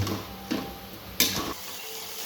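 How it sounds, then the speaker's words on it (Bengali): Chicken sautés with spices in a pan in a dhaba-style dish: a soft sizzle with a few scraping stirs and light clinks of the utensil, close and fairly quiet. "মাংসটাকে ভালো করে মশলাটা দিয়ে একটু কিছুক্ষণ কষিয়ে নেব"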